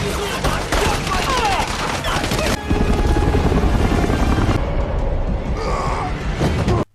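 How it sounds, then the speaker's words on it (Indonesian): Loud helicopter rotor drone with bursts of rapid gunfire over it, dense and continuous, fading toward the end; a movie action scene from Red Notice (2021). "Akhirnya Nolan berhasil menghidupkan helikopter dan ia menembak beberapa polisi yang ada di sana."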